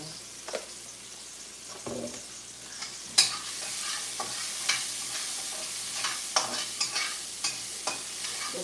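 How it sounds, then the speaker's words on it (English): Shells sautéing in extra virgin olive oil in a pan, a steady close sizzle and frying hiss with scattered pops and the clink and scrape of stirring throughout, no talking. "Just let them saute for a little bit."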